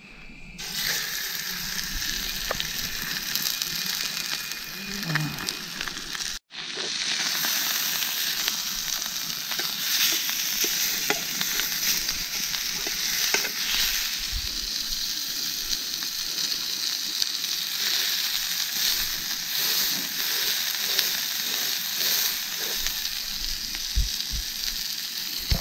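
A hamburger patty sizzles in oil on a griddle, a steady loud frying hiss running throughout with one brief pause early on, plus occasional faint clinks of a utensil.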